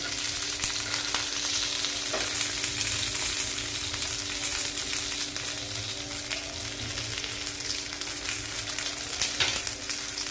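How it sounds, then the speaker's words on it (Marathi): Surmai and bangda fish frying in a pan with oil, a steady loud sizzle and crackle throughout with faint stirring sounds and no speech. "आता मी सर्व मासे फ्राय करून घेते."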